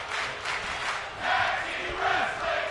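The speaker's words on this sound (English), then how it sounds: "Crowd is chanting Tag Team Wrestling, FD Jones." An arena crowd in the wrestling video game WWE 2K24 chants in rhythmic unison, a dense roar of many voices rising and falling, loud and continuous throughout.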